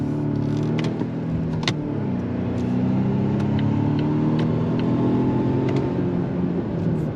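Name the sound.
hybrid SUV accelerating on throttle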